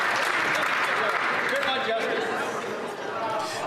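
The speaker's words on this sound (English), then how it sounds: "He's standing up, clapping for him." Applause fills the Canadian House of Commons during Question Period, a dense sustained clapping from many members that holds steady throughout with murmured chatter mixed in.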